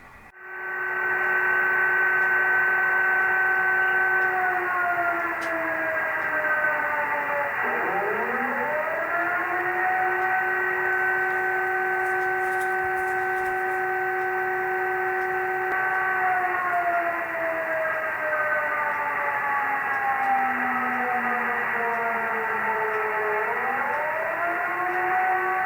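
A wailing siren broadcast over shortwave radio on 6678 kHz rises and falls in long sweeps, steady and loud with a thin, band-limited radio tone and faint hiss behind it.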